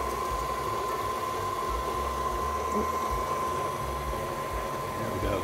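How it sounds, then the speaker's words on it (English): KitchenAid stand mixer beating sugar, a steady loud motor whir with a constant hum and churning texture throughout, close and unbroken. "Gotta like those KitchenAid mixers"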